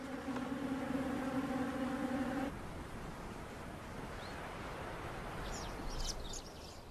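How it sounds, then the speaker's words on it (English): Bees buzz in the Kalahari around an unusual source of moisture, a steady faint hum over a soft wash of background noise, with a droning tone that fades after a few seconds. "sometimes they attract thirsty bees drawn to this unlikely source of moisture"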